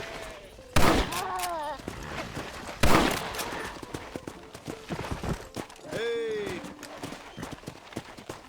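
Gunfire in Red Dead Redemption, on PS5: two loud sharp shots ring out amid horse hooves clip-clopping and a whinny, with a voice talking over the scene.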